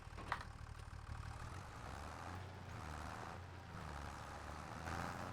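A tractor engine idles in Farming Simulator 25 with a steady low rumble and drone, fairly quiet and continuous, with slight swells in level and no talk.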